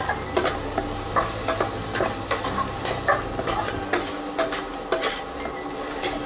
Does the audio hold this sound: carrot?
yes